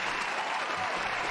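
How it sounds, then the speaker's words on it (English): Steady applause and clapping from a group fills the moment, a dense, even patter held at the same loudness throughout with no pauses. "can we get some claps in the chat?"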